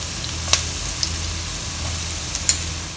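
Three cloves of chopped garlic sizzle in hot sesame oil with ginger, a steady close frying hiss with a few sharp pops and crackles.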